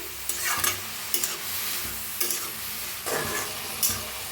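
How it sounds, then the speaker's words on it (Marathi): Chopped bottle gourd sizzles in hot oil in a kadhai while being stirred, a steady frying hiss punctuated by several scraping, clattering spatula strokes at irregular intervals. "छान मिक्स करून ना लौकीला 1 मिनिटभर असं भाजून घेऊया आपण"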